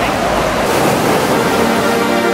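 Standing river wave in Munich where people surf, a loud, steady rushing roar of churning water heard up close throughout, with no clear talk.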